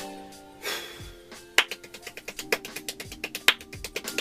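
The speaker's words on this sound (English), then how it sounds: "The palms must move in parallel to each other, so that each movement includes 2 claps." Very fast hand clapping with palms moving in parallel so each stroke lands two claps, a crisp, close, rapid run of sharp claps that quickens and stays steady for several seconds.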